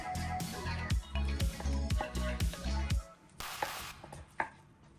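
Knife sawing through a chicken and pork meat roll wrapped in bacon on a cutting board, a run of rhythmic close strokes that thud on the board, then a few lighter taps.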